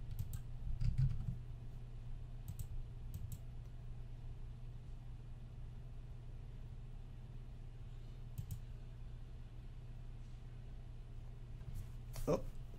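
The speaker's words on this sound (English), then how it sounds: "typed in a little bit too much there" Someone types on a computer keyboard, a few scattered key clicks and short bursts heard close over a low steady hum, quiet and sparse rather than continuous.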